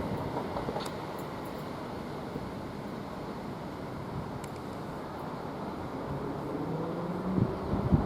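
A Gillingham to London Victoria passenger train pulls out of Rochester station, a steady low rumble of wheels and traction filling the platform, growing slightly louder toward the end with a few brief clanks.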